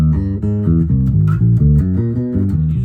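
An electric bass guitar runs up and down a scale alternating half steps and whole steps, a steady stream of deep plucked notes played loud and close with no talking.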